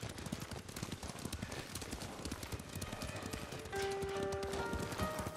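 Horse hooves gallop in the video game Ghost of Tsushima, a steady rapid clip-clop, moderately close, with a soft musical tone entering near the end and no talking.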